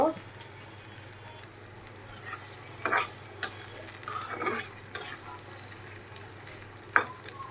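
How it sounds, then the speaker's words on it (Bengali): Onions frying in a pan as the base for a mutton curry with whole garlic and satkara, a soft steady sizzle broken by a few sharp clinks and scrapes of stirring. "পেঁয়াজ ভাজা নেব"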